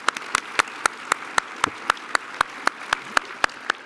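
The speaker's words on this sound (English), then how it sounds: "How about a round of applause for him?" At a lecture series event, hands clap in an even, steady beat of sharp, evenly spaced claps that sound sparse rather than like a full crowd.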